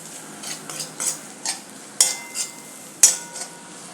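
A spoon stirs and mashes a spiced mixture of red chili powder and pav bhaji masala in a pan for a potato filling, making a series of light, close scrapes and sharp metallic taps over a faint sizzle.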